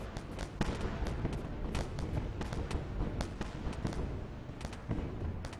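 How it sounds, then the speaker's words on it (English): Railgun volleys pound a ship in the space game Wayward Terran Frontier, a steady barrage of sharp cracks and dull thuds at a fast, uneven pace, fairly distant and even in loudness. "Those are all railguns. We really need these volleys to hit on this side of the ship where all the weapons are."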